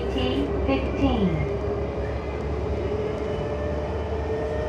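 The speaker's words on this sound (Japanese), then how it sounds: "This is the Tokaido Line train for Numazu." A Tokaido Line train bound for Numazu runs along with a steady low rumble and rolling rail noise, a faint whine rising over it early on.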